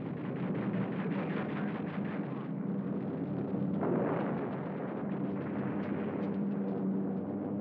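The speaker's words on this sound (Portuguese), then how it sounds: "Tiros antiaéreos que tentam causar buracos nos aviões" Wartime anti-aircraft fire from Japanese defenses at Kiska, a dense continuous rumble of bursts and booms under a steady hiss, loud and sustained throughout.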